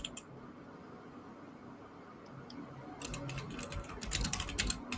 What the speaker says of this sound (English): I hear you typing away there.